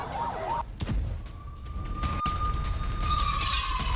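Emergency vehicle sirens from ambulances, police cars and fire engines at a strike scene in Lebanon: a faint, steady siren tone wails over a rough, noisy street and crowd din, fairly distant.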